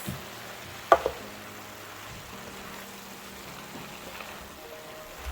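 Hunan chicken is stirred with sauces in a pan, a faint steady sizzle with a couple of soft utensil knocks near the start, then quiet low frying continuing.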